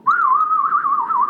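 A person whistles a wavering trill, imitating a bird's call, in one continuous warbling phrase, close and clear with no other sound.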